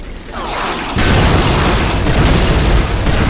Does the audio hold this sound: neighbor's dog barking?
no